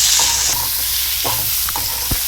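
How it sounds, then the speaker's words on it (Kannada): Chopped tomatoes frying in a pan with dried red chillies, a steady sizzle running throughout with a few short stirring scrapes and clacks of a utensil against the pan. "ಈ ಟೊಮೆಟೊ ಎಲ್ಲ ಸಿಪ್ಪೆ ಎಲ್ಲ ಮೆತ್ತಗಾಗಬೇಕು, ಅಲ್ಲಿವರೆಗೆ ಚೆನ್ನಾಗಿ 1-2ರಿಂದ 3 ನಿಮಿಷ ಚೆನ್ನಾಗಿ ಫ್ರೈ ಮಾಡಬೇಕು"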